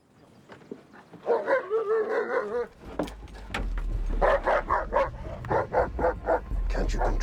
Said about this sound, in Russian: Да убери эту бешеную собаку.